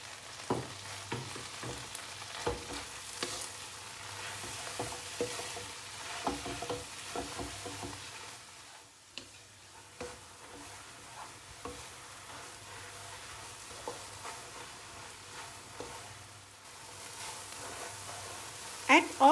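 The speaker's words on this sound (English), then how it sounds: "And now add the kangkung inside and fry on high heat." Kangkung (water spinach) stir-fries in a wok over high heat, a steady close sizzle broken by frequent clattering stirs and scrapes, with some talk mixed in.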